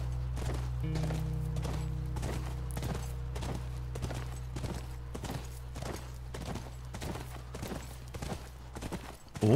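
Steady clip-clop of horse hooves at a walking pace in the video game The Last of Us, evenly spaced, over a constant low ambient hum.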